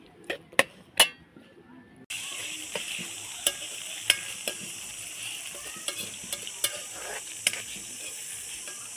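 Onion, chili and tomato frying in hot tempering oil in a kadai pan, with a steady broadband sizzle and sharp clinks of stirring. The sizzle jumps louder about two seconds in and holds to the end.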